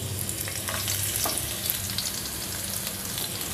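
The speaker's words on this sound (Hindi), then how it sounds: "अब इसमें फ्राई करेंगे" Steady sizzling of garlic frying in hot oil toward light golden, a continuous crackly hiss with small pops throughout.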